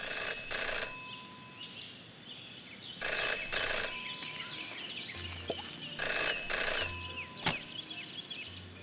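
Old-style telephone bell ringing in the video game Jenny LeClue, three loud double bursts of ringing spaced a few seconds apart, with soft background music and faint thuds between rings.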